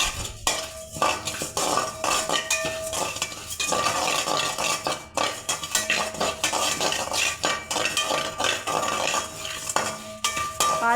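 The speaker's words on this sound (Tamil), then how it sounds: "சோம்பு நல்லா வறுத்து எடுத்துக்கலாங்க" Fennel seeds dry-roast in a hot pan while a utensil stirs them constantly, making busy metallic scraping and clinking over a faint sizzle.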